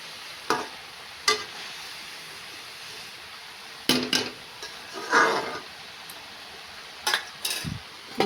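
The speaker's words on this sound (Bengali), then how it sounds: "এখন গোলমরিচের গুঁড়ো দিলাম, দিয়ে" Cabbage softened with salt and dusted with black pepper is stirred in a pan, giving scattered scrapes and clinks of the utensil against the metal with a faint sizzle underneath. There is no talking.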